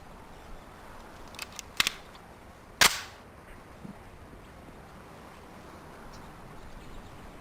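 Semi-automatic pistol shots during a failure drill in the PC game Police Quest: SWAT: a few faint, sharp cracks in close succession, then one louder shot, against quiet background hiss.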